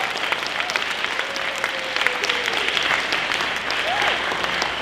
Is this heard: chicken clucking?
no